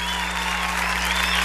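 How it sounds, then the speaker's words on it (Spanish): Studio audience applauding on a live TV dance competition broadcast, dense steady clapping with crowd cheers under a constant low hum. "el aplauso fuerte"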